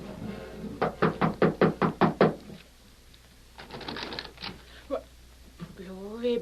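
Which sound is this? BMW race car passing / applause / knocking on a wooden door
knocking on a wooden door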